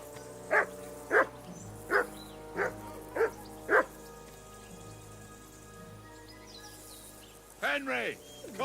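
A dog in the medieval Bohemia of Kingdom Come: Deliverance II barks six times in a fairly even rhythm, then a longer yelping burst follows after a quiet stretch, all close and clear over a low ambient hum.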